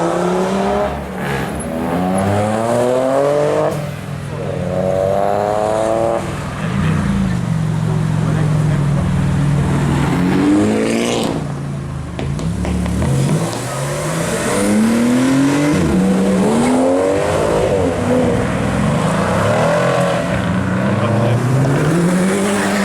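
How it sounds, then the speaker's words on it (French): A Porsche GT2 RS arrives at a Cars & Coffee meet in Luxembourg, its engine revving hard through repeated rising gear pulls, loud and close, with crowd voices talking underneath. "GT2 RS qui arrive"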